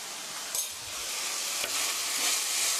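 Pork and kimchi sizzle and scrape in a hot pan as they are stir-fried with Korean chili powder, a steady close frying hiss broken by a few stirring clatters.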